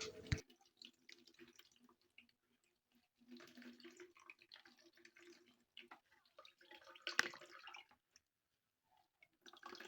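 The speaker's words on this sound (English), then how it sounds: "wrap the cheesecloth together and begin to squeeze out the juice from it" Castor bean juice squeezed by hand from cheesecloth drips and trickles into a container in small, irregular splashes, faint and close, separated by brief quiet gaps.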